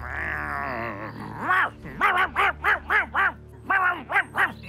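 A dog gives a low, drawn-out growl, then breaks into a quick, rhythmic series of about ten gruff, throaty barks, close and loud.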